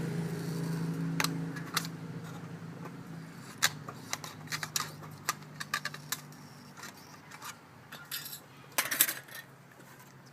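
Tin snips cutting a metal gutter dome piece, producing a series of faint, sharp metallic snips and clicks in an irregular rhythm, heard close with no talking.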